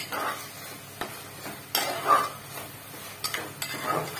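Spice masala frying in a pan for porcupine meat and being stirred, with intermittent scraping strokes and soft sizzling, close and moderately quiet.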